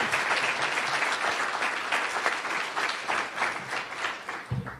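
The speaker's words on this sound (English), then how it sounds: "another round of applause for Dr. Ford as our 2019 UW Oshkosh Distinguished Award." An awards celebration audience applauds in a dense, sustained burst of clapping that fades near the end.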